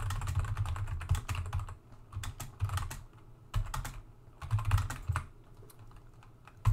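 Rapid clicking of keys on a computer keyboard while typing text in the Vim editor, typed in bursts with short pauses between, close and fairly quiet.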